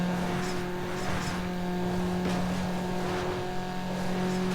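A car engine in the racing video game NFS Underground drones continuously, with a steady tonal hum and shifting rev changes as it downshifts, and a faint voice talking underneath.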